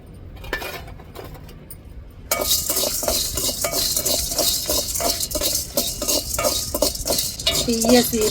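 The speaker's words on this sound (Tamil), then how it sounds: "இப்போ கடலைப்பருப்பையும் வத்தலையும் வறுத்து எடுத்துக்கிடுவோம்." Chana dal and dried red chillies dry-roasting in a pan, with a dense, continuous rattle and clatter of lentils and a stirring utensil scraping the metal after a quiet start.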